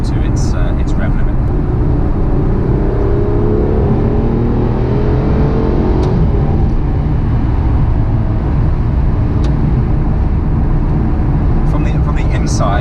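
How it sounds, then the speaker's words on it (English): A naturally aspirated Aston Martin Vanquish Volante engine, heard from inside with the roof up, climbs through the rev range and gears as a loud, steady drone, with talking over most of it. "there's nothing like a naturally aspirated engine for that feel as the car just moves through the gears and through the rev range"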